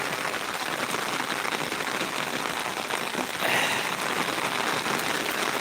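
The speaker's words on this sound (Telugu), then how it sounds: "అబ్బా చూడండి ఏం పడుతుందో వాన" Dense, continuous downpour in Tirupati hissing loudly and evenly, growing slightly heavier partway through, with no one speaking.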